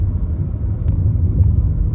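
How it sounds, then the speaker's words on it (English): Inside a 2021 Nissan Rogue Platinum Edition on the road, a steady low rumble sounds throughout as the car's pothole warning, close and even, with no voices. "The car gives off a little rumble where there's a big pothole coming"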